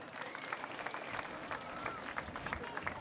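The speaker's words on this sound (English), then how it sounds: "Please put your hands together for Jason Johnson." Speedway crowd at Archerfield Speedway clapping for a sprintcar driver at a 2012 sprintcar meeting, a dense, steady wash of applause with scattered sharper claps, moderately distant.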